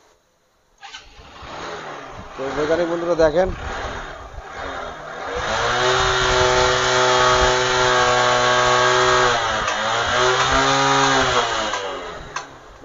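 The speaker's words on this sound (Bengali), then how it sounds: "বাইকটা স্টার্ট করে আপনাদেরকে দেখাবো" A CBZ motorcycle engine cranks and catches after a short false start, then settles into a steady, loud idle that holds for several seconds; someone speaks briefly before it fires.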